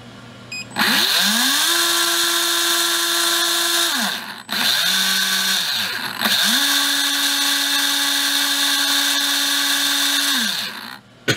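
A Tekin Elite 17.5t Gen4-R2 brushless RC motor runs under load: a loud, steady electric whine ramps up and holds, drops out briefly, then spins up twice more before cutting off.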